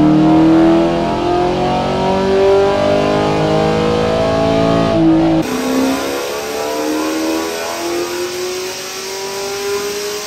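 A cammed 6th-generation Chevrolet Camaro SS engine revs hard and loud on a dyno, pitch climbing steadily, then drops off sharply and winds back up with a rising whine.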